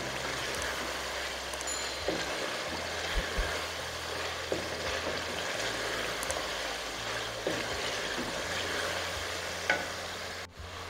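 Ginger garlic paste frying in a pan for a cauliflower and mutton curry, giving a steady, soft sizzle with occasional stirring scrapes throughout, no voices.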